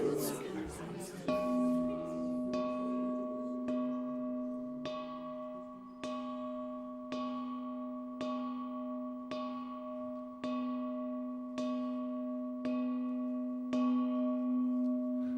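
A clock bell strikes twelve as a radio drama sound effect in a live staging of A Christmas Carol, with evenly spaced, ringing tolls decaying one into the next, loud and alone.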